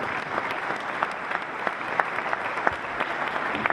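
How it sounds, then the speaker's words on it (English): Audience at a live-streamed panel event gives a warm round of applause, a steady wash of many hands clapping throughout, moderately distant and without talk. "we can give it a big warm round of applause"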